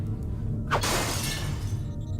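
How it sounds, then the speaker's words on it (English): A glass window shatters in the game System Shock 2: one sudden loud crash followed by a dense spray of tinkling fragments that lasts about a second and then trails off over a steady low background hum. "I think they've broken the glass every single time. And I did not want to break that trend"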